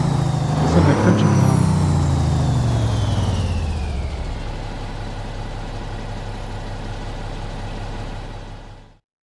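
A Critchbomb-pack truck engine in American Truck Simulator gives a sharp rev at the start, then winds down into a fading idle-like drone before cutting out, heard alone without voices.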